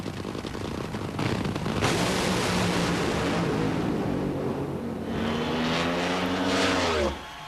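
NHRA drag race cars run at over 300 mph at Sears Point on a hot day in 1995, a loud roaring blast of engine noise that builds, then fades and returns with a rising whine before cutting off.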